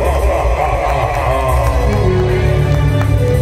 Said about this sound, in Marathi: लेकरासाठी पाठ टाळ्या वाजवा